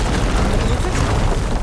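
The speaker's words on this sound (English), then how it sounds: "would you mind warning me next time you decide to, blow up a wall?" A wall blown apart by an explosion in Horizon Forbidden West: a loud, dense blast of rumbling roar and debris noise that fills the whole moment without letup.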